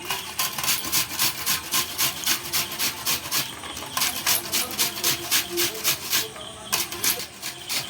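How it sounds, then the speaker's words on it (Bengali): Onion and ginger grated by hand on a kitchen grater while preparing stuffed koi fish, a steady run of quick rhythmic rasping strokes, close and fairly loud, with no talking. "পেঁয়াজ আদা এইটা গ্যাটারতে ঘষে নেব সুন্দর করে"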